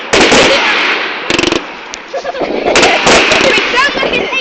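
Fireworks at an outdoor display bursting in loud, rapid volleys of sharp bangs and crackles, with brief gaps between salvos and voices faintly around them.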